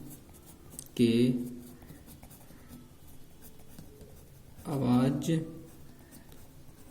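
A pen scratches on paper in two brief bursts of writing while someone talks steadily in Hindi during a maths lesson.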